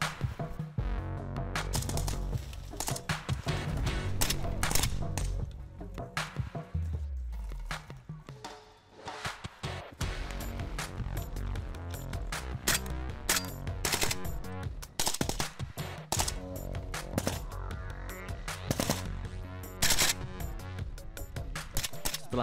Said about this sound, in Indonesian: Siswa berlari menuju perbukitan sasaran sembari menembakkan senjata.